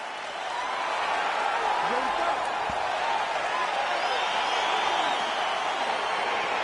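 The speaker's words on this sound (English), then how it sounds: "crowd getting excited as this fight gets underway" A UFC 4 arena crowd keeps up a steady, broad roar of cheering as the fight begins, while a voice speaks over it.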